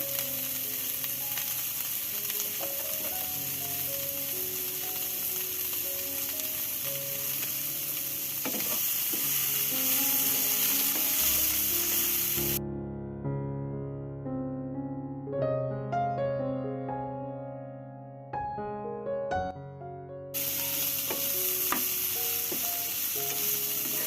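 Cauliflower sizzles and crackles in a hot pan, a steady frying hiss with music playing alongside; the sizzle drops away briefly midway.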